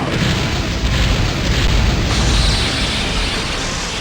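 A loud, sustained explosive boom from the Liger Bomb attack in Naruto Shippuden: Ultimate Ninja Impact, a dense roaring blast that fills the whole stretch without letting up.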